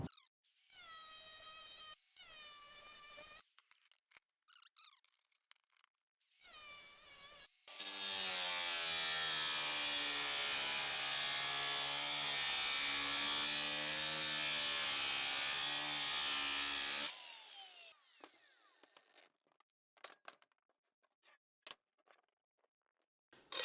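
A cutoff wheel scores clamped steel along a bend line for a welded wall planter. Short grinding bursts come first, then a loud, steady, high whine runs for about nine seconds before cutting off.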